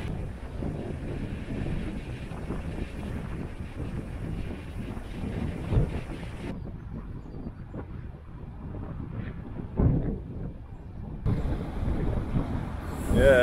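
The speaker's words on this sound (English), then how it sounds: "Well, that wind's gusting now." Wind gusts roar into an outdoor microphone on a canal cruise, rising and falling in strength, with a brief lull midway before the rush returns.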